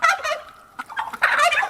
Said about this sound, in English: I apologize about the turkeys, but all they do is gobble